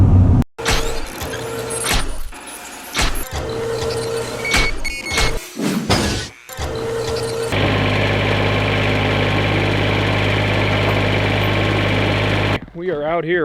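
A Kubota BX2360 compact tractor engine runs at a steady idle, a low continuous drone that grows louder and close in the second half, with people talking and clattering sounds over it earlier.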